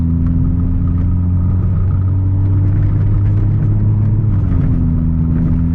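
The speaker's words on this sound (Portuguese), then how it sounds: "Barulho de escutar a troca de marcha" A 2014 Volkswagen Golf TSI engine drones steadily close by, its pitch shifting as the gears change, with a continuous road rumble underneath.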